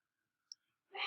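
A single faint, crisp computer mouse click opens Speed Grader in Canvas, followed by a soft breath.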